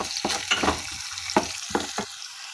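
Kashmiri red chili powder is mixed into sautéed red chillies in a pan, heard as a close run of scraping, stirring strokes in quick uneven bursts over a faint sizzle.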